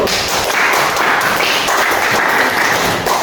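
Students in a classroom give a loud, sustained round of applause, dense and even across the whole stretch.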